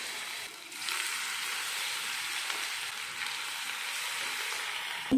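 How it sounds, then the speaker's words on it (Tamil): Cauliflower pieces frying in hot oil give off a steady, close hissing sizzle that runs almost without a break, with no voices. "ஆயிலில் போட்டு பொரிச்சு எடுத்துடலாம்"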